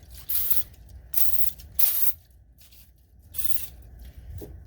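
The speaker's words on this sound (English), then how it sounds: "You may want to clean off any rust and go through with some brake clean" Brake cleaner sprays in four loud hissing bursts onto the rusty brake parts of a 2004 Saturn during a rotor and pad swap, with short pauses between bursts and a faint final spurt.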